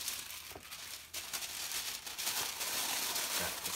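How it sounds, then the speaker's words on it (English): Crinkling and crumpling of paper as a package is wrapped by hand, a close, continuous rustle with irregular crackles and soft tearing textures throughout. "let me go ahead and wrap this"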